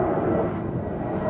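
A low-flying airplane over a reservoir gives a steady broad roar that stays loud and constant for the whole moment, with some wind rumble mixed in.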